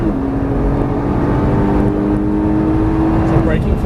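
Nissan GT-R engine on a race track, a steady loud drone rising gently in pitch as the car accelerates, with a voice talking over it throughout.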